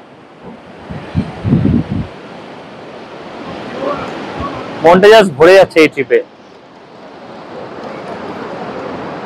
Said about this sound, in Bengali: সামনে বয়ে চলেছে বাসপা রিভার, আর এইদিকে পাহাড় থেকে একটা ঝর্ণা আসছে।